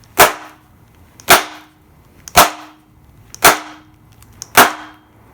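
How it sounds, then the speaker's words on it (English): Five hard metal strikes land on a Hoffner knife during an overstrike torture test, evenly spaced about a second apart, each a sharp, loud crack with a short ringing tail. "I'm going to strike here, see if it collapses on itself that way. And we're going to do this pretty hard."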